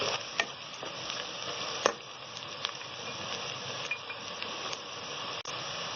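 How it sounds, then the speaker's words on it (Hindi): Whole spices, red chili, salt and cumin frying in a pan for smoky chicken biryani, a soft continuous sizzle with occasional sharp ticks and pops from stirring, no voices. "अब मज़ीद 2 मिनट तक भून लेंगे हम।"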